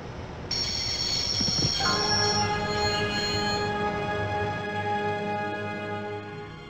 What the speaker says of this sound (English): always wanted to stop a train, and now was my chance.